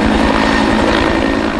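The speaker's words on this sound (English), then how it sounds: "Choppers circled overhead, dropping loads of water in advance of the flames." Helicopters circle low over a wildfire while dropping loads of water ahead of the flames, their rotors making a loud, steady, throbbing drone that fills the whole stretch without any talk.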